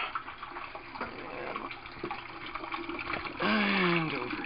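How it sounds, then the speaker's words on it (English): Water pours steadily into an aquaponics hydrocyclone, a continuous close splashing trickle that swells into a louder, gurgling rush near the end, with no voices. "pouring water into my hydrocyclone just as a place to put the water for now"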